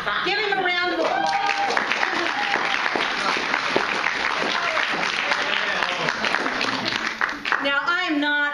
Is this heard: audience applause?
yes